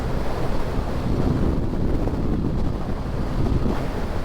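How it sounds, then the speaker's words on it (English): Strong wind roars against the microphone while an XR150L motorcycle rides through the first snow of the year, a loud, steady, dense buffeting rumble with no pauses. "a big blast of wind caught me off guard"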